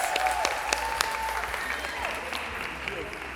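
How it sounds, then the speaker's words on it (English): Warm audience applause as speakers are welcomed to the stage for a fireside chat on design and innovation, steady crowd clapping with some sharper individual claps and faint voices underneath. "Can we give them a warm round of applause?"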